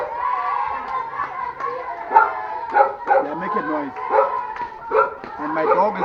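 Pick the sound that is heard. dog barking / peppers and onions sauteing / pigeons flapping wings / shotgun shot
dog barking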